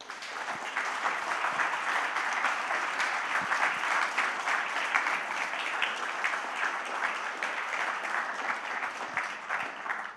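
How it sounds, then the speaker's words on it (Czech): An audience at a public lecture on urban changes in Prague claps for about ten seconds, a steady, even burst of many hands without any voices over it. "poprosím o potlesk."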